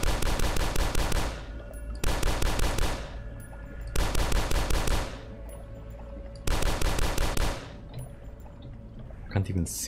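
Rapid bursts of video game gunfire in Dusk, four loud rattling volleys of pistol shots each lasting over a second with short gaps, ending in a few scattered clicks.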